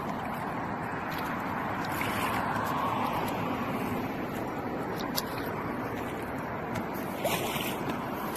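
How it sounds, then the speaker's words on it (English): Intex Explorer K2 two-person inflatable kayak paddled on open water, a steady broad wash of water and wind noise with faint paddle splashes throughout, no talk. "Focus on paddling on the right side."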